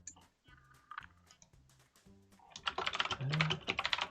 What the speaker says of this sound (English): You'll get to hear my very clicky keyboard.